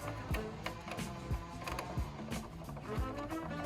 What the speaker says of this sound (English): once you've tightened down all the screws